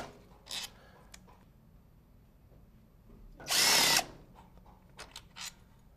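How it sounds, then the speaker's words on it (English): A power tool spins out number 45 Torx support bolts from a Mercedes 722.9 transmission case, with short whirring bursts, one long loud run in the middle and a few brief spins near the end, close and otherwise quiet. "we're going to remove the B2 housing to case support bolts here"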